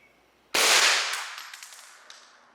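A single loud, close rifle shot fired while zeroing a scope outdoors, a sharp crack at about half a second followed by a long decaying echo and faint ringing tail.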